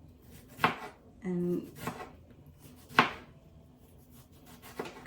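A knife slices a pickle into shreds on a board, a few crisp, close thuds spaced irregularly, with a brief word spoken and a short low hum between cuts.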